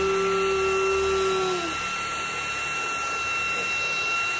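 A Xiaomi Mi cordless mini vacuum cleaner running on its higher power mode gives a continuous loud high-pitched whine with steady motor hum, close up, holding constant throughout with one tone dropping partway.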